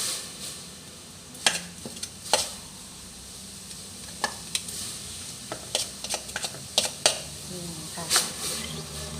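Pounded curry paste of shallot, lemongrass and chili going into a pot for a Thai mushroom curry, faint sizzling and scattered sharp clicks and scrapes of stirring, with soft background noise.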